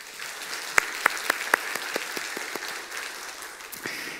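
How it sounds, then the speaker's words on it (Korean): Church congregation applauding during a Sunday worship service: a broad wash of many hands clapping, with a few sharp, louder claps near the front early on, sustained for about four seconds before thinning out. "박수 한번 칩시다"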